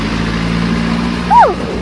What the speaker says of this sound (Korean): 자, 트랙터가 들어옵니다.